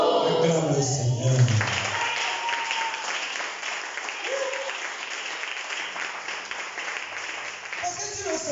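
A church congregation breaks into sustained applause, a dense wash of clapping that fills the room from start to finish, with voices and a little singing mixed in near the beginning.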